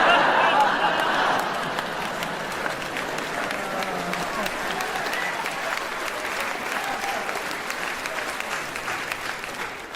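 Stand-up comedy crowd bursts into loud applause, strongest at the start and then settling into steady, sustained clapping mixed with faint cheering.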